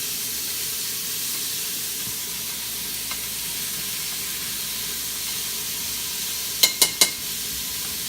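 Chopped onions sweating in a pan for Louisiana red beans and rice, a soft steady hiss of sizzling throughout, with three quick clinks near the end.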